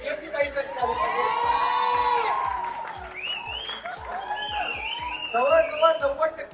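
A crowd at a mango-juice-making competition at a festival applauds and cheers, with rhythmic clapping and whoops under excited shouting voices and some thumping beats.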